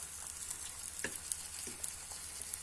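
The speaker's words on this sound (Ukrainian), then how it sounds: "Я підсмажую і зниму" Food frying in a pan during breakfast cooking, a steady close sizzle with occasional small pops and stirring clicks, no talking.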